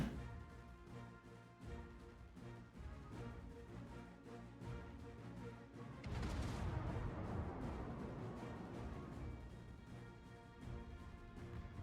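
Naval shell fire in World of Warships, a continuous low rumble of distant guns with a heavier rolling boom of incoming shells landing midway, steady and dense throughout.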